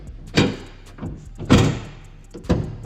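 Tailgate latches on a 1999–2007 Chevy/GMC pickup releasing during a handle replacement, giving three separate dull metallic thunks about a second apart, fairly close and loud against quiet background.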